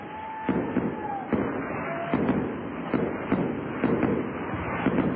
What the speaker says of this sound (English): we'd be leaving the air with the Procter & Gamble fireworks show still going